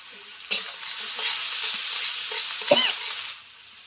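Chopped onion and green chili hit hot oil and fry with a bright, close sizzle. A spatula stirs them, with a sharp clack near the start and another scrape toward the end before the hiss fades slightly.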